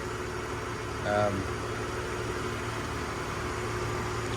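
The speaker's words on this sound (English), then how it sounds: "I love this motor in this truck" The engine of a Ford F100 pickup idles with a low, steady, quiet purr. A brief voice cuts in early on.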